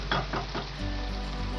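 Ground boiled onion paste fries in a pan, a close sizzle with a few quick stirring scrapes before settling into a steady hiss.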